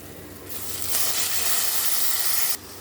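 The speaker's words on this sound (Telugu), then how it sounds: "ఇప్పుడు కడిగి పెట్టుకున్నటువంటి పప్పుని తాలింపు వేసుకుందాము" Washed dal tipped into hot tempering in a pan hits with a sudden loud sizzle and hiss that holds steady for about two seconds, then cuts off sharply.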